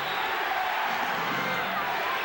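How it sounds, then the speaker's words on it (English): Arena crowd at the 1991 NBA Finals Game 3, Lakers hosting the Bulls, chanting defense as a steady, dense roar that fills the whole stretch without breaks. "Crowd with the chant of defense."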